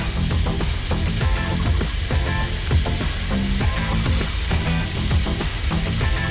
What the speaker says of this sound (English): These things are searing so loud, you probably can hear it in the background.